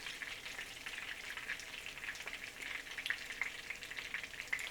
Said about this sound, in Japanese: 火が入っているかどうかの確認は油の音がだんだんシュワシュワと小さくなってくる